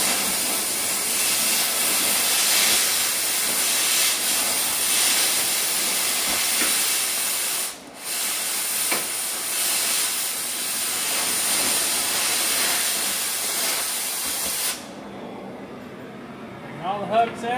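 An aerosol can of WD-40 lubricant sprays into a cut on a Peterbilt 379 truck under restoration, a loud close hiss held for about fifteen seconds with one brief break before it stops.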